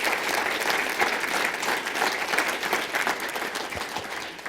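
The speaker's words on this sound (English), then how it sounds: "a round of applause for all of our finalists" Full, dense applause from a large audience at the AAU Sullivan Award ceremony for the award finalists and their families, a steady roar of clapping that holds strong for over four seconds before easing slightly at the end.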